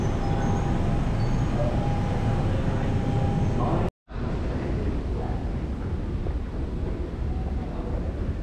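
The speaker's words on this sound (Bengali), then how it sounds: "এই হচ্ছে ইলিং ব্রডওয়ে ট্রেন।" A London Underground train at Ealing Broadway, a loud steady rumble that cuts out for a moment before the noise resumes, close and continuous.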